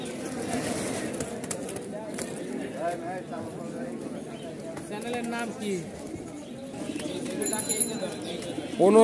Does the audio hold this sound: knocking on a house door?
no